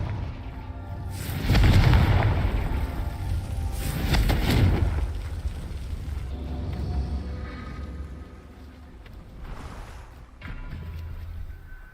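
Confringo blasting spell in the Hogwarts Legacy video game, two heavy booming explosions early on followed by weaker bursts and rumbles later, loud and close.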